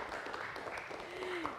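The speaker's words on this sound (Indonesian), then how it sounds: "tepuk tangan sekali lagi dong untuk teman kita hari ini" A school audience at a children's preaching event claps for a young student, a brief burst of applause blended with murmuring voices.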